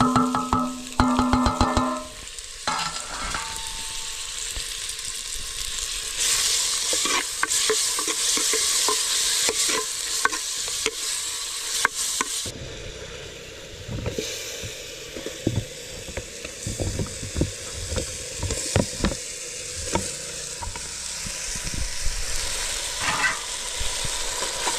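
Tomatoes frying in a hot pan at home and stirred repeatedly, loud close sizzling with scraping, clattering utensil strokes throughout and no talking.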